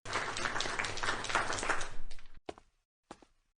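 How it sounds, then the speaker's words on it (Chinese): An audience bursts into applause welcoming General Nanshan at a lion king contest, a dense clatter of clapping for about two seconds that quickly dies away into a few scattered last claps. "让我们掌声欢迎"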